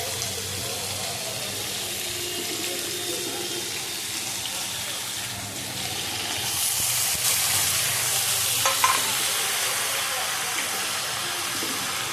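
Vegetables for khichuri crackle and sizzle in a hot pan, a continuous close frying hiss that swells louder after they are tipped in, with faint clatter of stirring.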